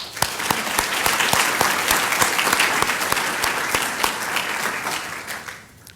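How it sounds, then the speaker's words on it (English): An audience at a nursing college white coat ceremony claps steadily and fairly close, individual sharp claps standing out within a continuous round of applause that fades away at the end. "Let's give a round of applause for all our sponsors."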